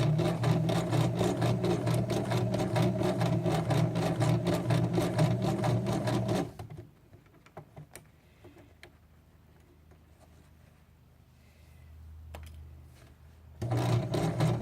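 A home sewing machine stitches a fabric tote bag corner with a fast, even mechanical rattle for several seconds, then stops; a few faint handling clicks and a hand-turned wheel follow before the motor briefly starts again.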